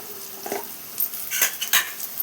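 A spoon scrapes and clinks against a pan while curry is stirred after adding salt and chili powder, in a few short irregular strokes, close and alone over a faint background hiss.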